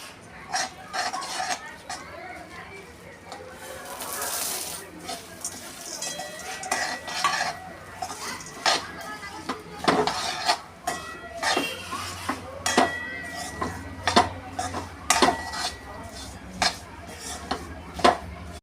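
Jaggery melting with puffed gram stirred in a pan, a spoon scraping and clinking against the metal in irregular, fairly close knocks and taps, with no voices.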